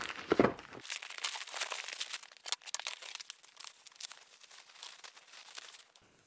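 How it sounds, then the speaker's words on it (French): Crinkling and tearing of packaging as a parcel holding a 3D-printed SLS perforated plate is unwrapped, with a louder rip at the start and then steady close rustling. "Donc on va déballer ça, puis on va regarder de quoi ça a l'air à l'intérieur du paquet."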